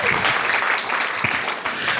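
Audience clapping in the Lakewood Theater main stage at an art show opening, loud and continuous with a few sharper claps standing out.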